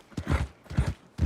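Horse hooves clip-clopping in Red Dead Redemption, a few uneven steps in two quick clusters with a third starting at the end, close and moderately loud with no talk over them.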